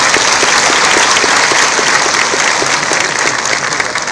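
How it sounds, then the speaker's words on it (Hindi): Loud, dense applause from a large crowd at a ceremony handing out job appointment letters to newly appointed junior engineers, sustained and even for several seconds, then easing slightly toward the end. "तो एक बार जोरदार तालियां सभी की।"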